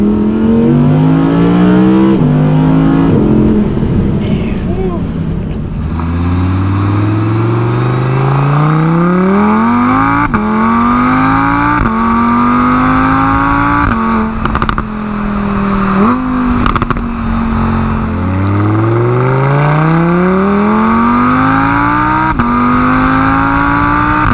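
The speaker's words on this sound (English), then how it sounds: "I can't get over how quick these shifts are. Oh, the pops." Audi R8 with a V8 engine revving hard through a run of quick gear shifts, each upshift dropping the pitch before it climbs again, with crackling exhaust pops in between, loud and close with no talk.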